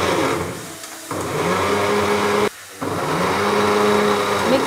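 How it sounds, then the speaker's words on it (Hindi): A kitchen mixer grinder making tomato puree whirs loudly and steadily, pausing briefly twice before spinning up again, its motor pitch rising as it runs. "मिक्सी बहुत आवाज करती है"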